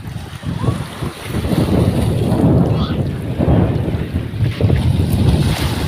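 Strong wind sweeps over the Padma river at Mainot ghat on a rainy-season afternoon, buffeting the microphone in a loud, steady roar mixed with lapping waves, with no clear talk.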